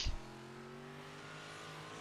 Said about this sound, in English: First car we have out on track.